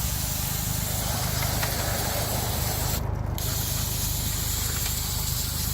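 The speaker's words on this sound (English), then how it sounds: "So I'll try to use some disc brake cleaner" Disc brake cleaner sprayed onto the rear brake of a 2004 Ford F150: a steady, close hiss of aerosol spray running throughout over a constant low background, with a brief sharper burst midway.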